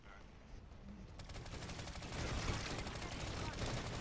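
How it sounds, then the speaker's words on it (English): Shotgun fire in an online shooter game, dense rapid blasts blending into a continuous loud barrage that swells midway and holds to the end, with no voices. "Using a shotgun."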